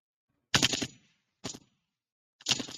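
Gunshots from a played recording, in three bursts of rapid reports about a second apart, moderately loud with silence between.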